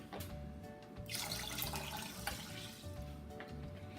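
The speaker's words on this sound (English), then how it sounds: "2 mug cups of water." Water poured from a mug into a pot of rinsed white rice, a steady splashing gush that swells after the first second and continues at close range without talk.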